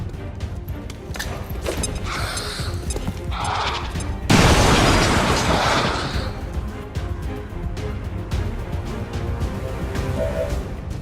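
Grenade explosion in XCOM 2, a loud broadband boom about halfway through that rumbles and fades over a couple of seconds, set among clattering mechanical game sounds.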